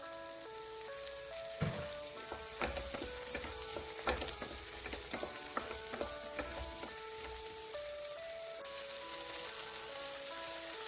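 Drumsticks (moringa pods) frying in a pan with green chilies, a continuous close sizzle broken by scattered clicks and taps of stirring, over a faint high whine.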